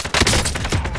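Rapid automatic gunfire from the video game Call of Duty: Modern Warfare, a dense, loud burst that continues almost without pause through the clip.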